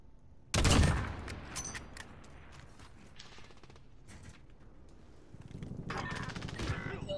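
Gunfire in a first-person shooter game on a search-and-destroy match, with a sharp close burst near the start followed by fainter scattered shots and mechanical clatter, later joined by a rougher stretch of firing.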